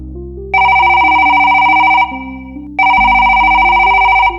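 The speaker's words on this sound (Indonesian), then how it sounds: "Tiba-tiba, suara berdering memecah keheningan." A mobile phone rings loudly as a sound effect, two electronic ringtone bursts separated by a short gap, each with a bright repeating warble over a lower melodic tone.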